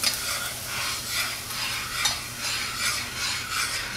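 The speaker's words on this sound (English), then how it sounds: "that's a boil over" Wort for a yeast starter foaming and boiling over on the stove, a close, steady hissing sizzle with rhythmic bubbling surges, no voices over it.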